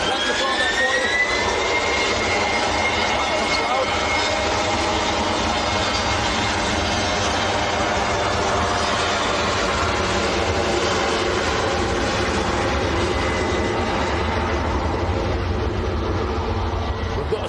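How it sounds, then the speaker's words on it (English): An Embraer jet at Manchester Airport makes a loud, sustained roar with a rising turbine whine at the start, continuous throughout and fading slightly near the end. "That sounded loud for an Embraer."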